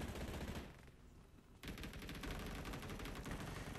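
Loud, rapid gunfire from the mobile shooter game Game for Peace (PUBG Mobile) hammers in dense automatic bursts. It pauses briefly near the middle, then resumes in sustained rattling fire.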